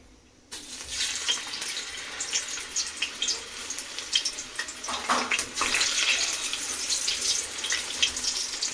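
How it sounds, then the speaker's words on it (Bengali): Boiled potatoes drop into hot oil with whole spices in a wok, and a sudden loud, rushing sizzle breaks out after a moment of quiet, then roars on steadily with crackling surges and no speech. "তো এই আলুগুলো এখন দিয়ে ভাজবো।"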